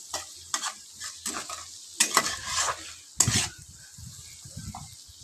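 Onions frying in a pan on low heat: intermittent bursts of scraping and sizzling as they are stirred, separated by quieter moments, close up.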